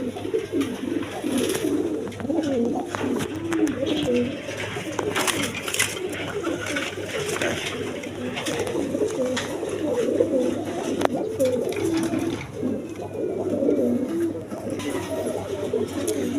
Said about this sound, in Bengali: এখানে এক পেয়ার রেশার কবুতর আছে